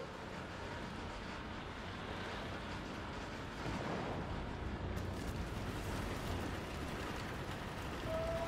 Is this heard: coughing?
no